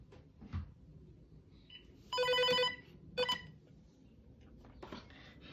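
Uniden XCA4500 cordless extender phone handset sounding an intercom call: two electronic ring bursts, a longer one then a short one, fairly clear over a quiet room with faint background noise.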